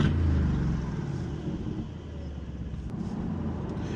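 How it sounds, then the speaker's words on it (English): An Aston Martin sports car engine hums and rises from inside the car, a steady low growl with a brief surge, fairly quiet. "Oh, it just sounds so good, this car."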